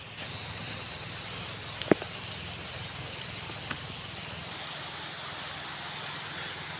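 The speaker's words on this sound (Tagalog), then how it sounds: "Ulan talaga dito." Typhoon rain falls on Burias Island in an even, unbroken wash of noise, with a couple of faint knocks and no voices.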